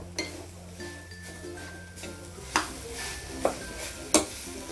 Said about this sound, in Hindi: अच्छी तरह से इसे चला लेते हैं और ये मिक्स कर लेते हैं इसको पूरी अच्छी तरह से